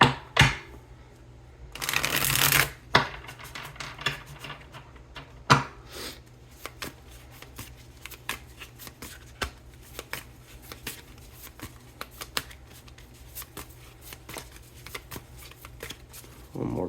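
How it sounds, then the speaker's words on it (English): A tarot card deck being shuffled close by, a short burst of riffling early on, then a long run of quick, light card taps and flicks under a quiet background with occasional faint voice. "One more good shuffle."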